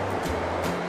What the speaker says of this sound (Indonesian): Awas ombak,